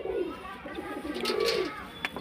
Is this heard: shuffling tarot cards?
no